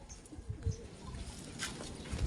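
A racing pigeon arrives back at its loft after a derby lap from Ibaan, Batangas, with soft pigeon cooing and faint fluttering among quiet outdoor background noise.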